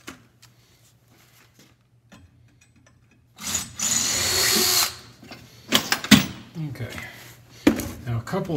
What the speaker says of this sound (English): So we're going to drill these with a number 7 drill.